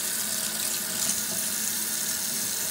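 Hands being washed under a running water tap at a sink, a steady close splashing hiss of flowing water throughout, with no talking.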